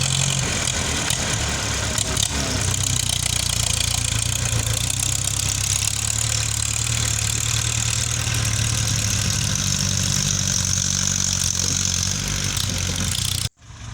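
A heavy tractor engine idles with a steady low rumble and faint knocking, running continuously before cutting off abruptly near the end.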